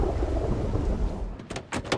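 Rain and thunder in the Project Zomboid video game, a heavy rolling thunder rumble with steady rainfall, followed by a few sharp bursts near the end.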